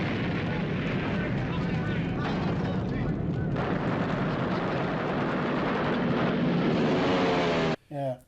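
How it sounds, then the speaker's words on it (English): Movie explosions played back from laserdisc roar in a long, dense, sustained blast of booming noise that fills the clip and cuts off abruptly near the end. "It showed that great scene where the guy almost got killed by the explosions"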